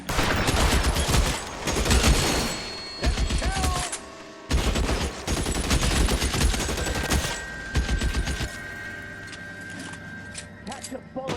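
Gunfire in the video game L.A. Noire: loud bursts of rapid shots and sustained volleys crackle for several seconds, broken by short pauses, with a voice speaking amid the shooting.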